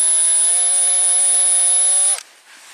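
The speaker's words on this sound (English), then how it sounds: "let's try to drill that out. Alright, 1/16 inch drill bit." A high-pitched power drill with a 1/16 inch bit whines steadily for about two seconds while drilling a 1975 International 574 tractor's carburetor part, then cuts off abruptly into quiet.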